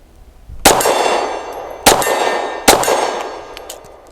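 An aftermarket magazine for an Ermox X-fire is inserted and drops free, giving three sharp metallic clanks close by, each followed by a brief ringing tail, with no talk.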